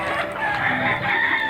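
A gamecock rooster crows in one sustained, loud, close call lasting the full moment, with no voices around it.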